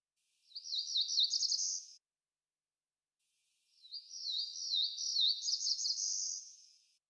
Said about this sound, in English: The first is our Cerulean Warbler with a nice flat ending buzz. I've added the song again, but at half speed.